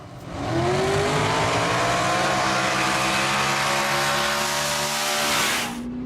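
Drag racing cars, a Mustang against an S-10, launch off the line with a loud, sustained roar of revving engines that climbs in pitch and holds for several seconds before falling away.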